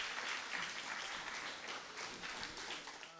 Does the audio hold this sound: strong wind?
no